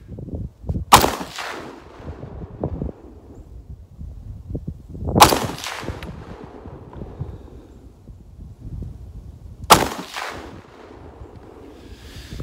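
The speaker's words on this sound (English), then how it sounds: "I'm going to run 3 rounds of Tula 150 grain full metal jacket." Three loud, sharp gunshots from an M1A SOCOM 16 rifle firing Tula 150 grain full metal jacket rounds, spaced about four seconds apart outdoors in freezing cold, each with a brief echoing tail over low wind noise.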